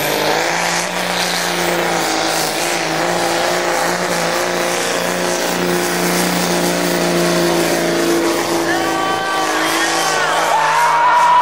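A Dodge drag truck in street class launches down the strip, its engine roaring loud and sustained with the torque converter spinning, the pitch climbing steadily as it pulls away.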